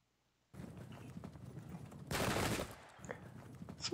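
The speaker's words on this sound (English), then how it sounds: "Pot shots and more arquebusiers." Arquebusier musket volleys in Pike and Shot, a rattling spread of distant shots that swells into a loud, dense crackle before trailing off into scattered pops.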